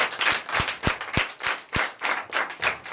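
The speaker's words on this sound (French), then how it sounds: "je vous demande encore d'applaudir très très fort pour cette foi" A congregation at a Sunday church service in Benin claps in a strong, regular rhythm, loud unison beats at a steady pace with a shimmering wash of hands between them.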